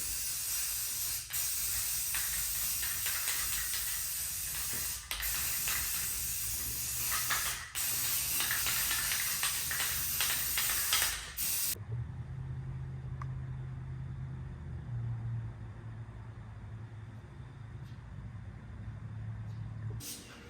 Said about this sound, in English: Now we're just going to spray paint it.